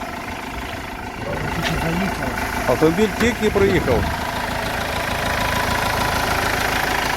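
A 3-litre Iveco van engine idles steadily under the open hood at a commercial vehicle market, a continuous mid-low hum that stays even throughout while someone speaks briefly over it near the start.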